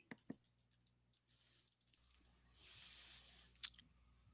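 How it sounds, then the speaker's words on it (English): Soft keyboard typing, quiet and close, with a few scattered key clicks and a brief louder clatter near the end. "I'm just typing an answer in the chat box,"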